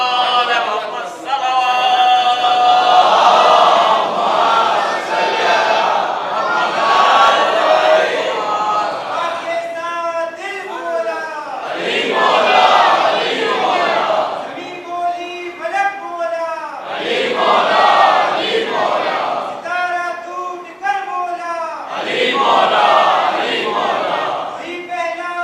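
A crowd at a religious gathering chants slogans in loud, rhythmic bursts, voices rising together in repeated waves for the whole stretch, close and full.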